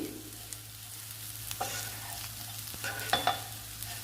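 Ivy gourd (dondakaya) fry sizzles softly in a pan while a spatula stirs and scrapes it in a few sharp, scattered strokes. No one talks.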